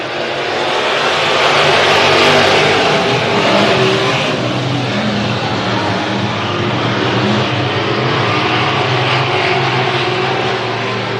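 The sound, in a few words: race cars on a speedway track after the green flag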